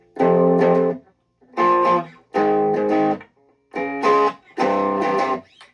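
Distorted electric guitar plays five short chord bursts with brief gaps between them, loud and gritty.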